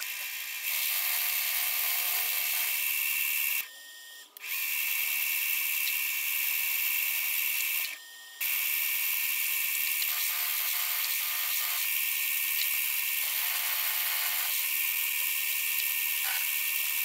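Metal lathe or mill cutting interrupted flanges on an M42 to EF lens adapter held in a dividing head, a steady high whirring machining tone running throughout with two brief breaks, close and without speech.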